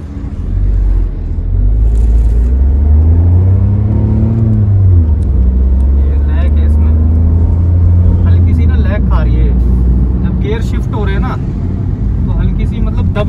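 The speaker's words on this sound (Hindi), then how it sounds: "मैं थोड़ा भी गाड़ी चला के देखता हूँ" A 2020 Tata Tiago BS6 automatic car being driven, its steady low engine and road rumble running throughout, with a gear change apparent mid-way and someone talking over it near the end.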